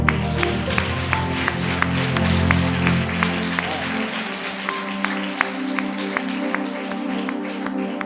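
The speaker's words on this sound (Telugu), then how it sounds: "చప్పట్లు కొట్టండి." A church congregation claps together in a sustained burst of applause, with dense, steady hand claps running the whole way through. Some tonal voice or music sits underneath during the first half.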